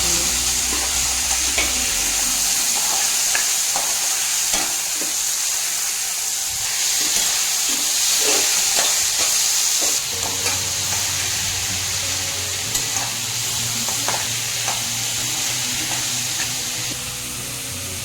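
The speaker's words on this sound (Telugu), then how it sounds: "ఒక 2 to 5 మినిట్స్ ఇది కొంచెం ఫ్రై అవ్వాలండి." Bitter gourd pieces fry in a pan with a steady, fairly loud sizzling hiss, broken by repeated scraping clinks as a spoon stirs them. No one speaks.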